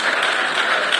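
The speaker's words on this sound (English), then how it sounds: "Give them a round of applause" An audience applauds bus drivers at a school event, a dense, steady wash of clapping that holds at an even loudness through the brief moment, with no voices standing out.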